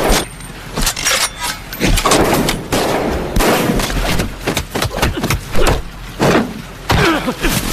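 Sharp gunshots ring out amid a fierce bare-handed gang fight scene, several loud cracks and impacts scattered irregularly over a busy, dense background of movement and action noise.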